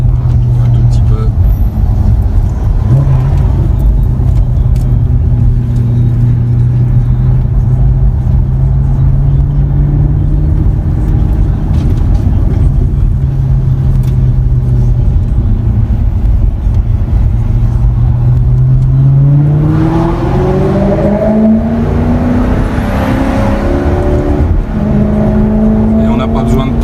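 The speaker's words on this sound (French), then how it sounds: "Le son est envoûtant sur ce véhicule" A Maserati GranTurismo S engine drones loudly and steadily from inside the car, then its pitch climbs as the car accelerates harder near the end.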